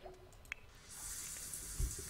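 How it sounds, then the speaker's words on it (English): Water running steadily in a Sims 4 household shower, a soft hiss that starts partway through and continues at a quiet, constant level with a few faint clicks and thumps, with no talking. "kids are having a shower"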